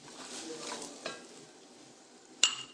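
Sliced onions and carrots hitting oil in a pan, a soft sizzle with a couple of faint stirring knocks and a sharp clink near the end, quiet overall.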